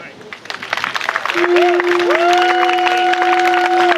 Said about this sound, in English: please give a welcome and a warm applause to the stage